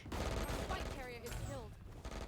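Rapid SMG gunfire in the tactical shooter Valorant, a dense continuous crackle of shots under a speaking voice, short and fairly quiet.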